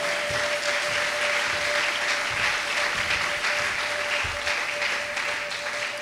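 A church congregation applauds loudly and steadily at a French-language worship service, with dense, continuous clapping sustained throughout and no pause.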